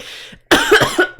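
A person gives a harsh, loud cough close up, a couple of rasping bursts after a brief pause, with a faint hiss before it.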